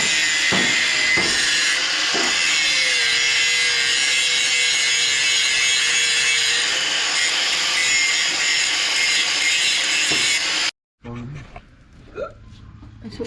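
Power saw cutting through a 14 bolt axle housing to clear a locker, a loud steady high-pitched grinding whine lasting about ten seconds before cutting off abruptly, followed by quieter shop noises.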